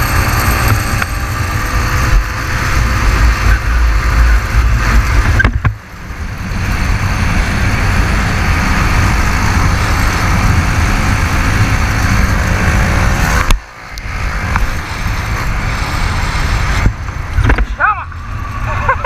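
Motorcycle engine on a road, droning loudly and steadily with brief drops where the throttle eases, then rising again; a voice talks over it at times.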